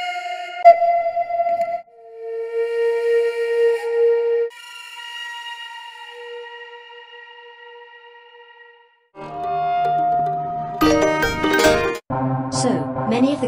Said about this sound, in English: and flutes.